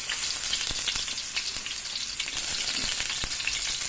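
Garlic hitting hot oil in a kawali while cooking pancit canton, a dense, bright, continuous sizzle close up with a few sharp pops and utensil clicks.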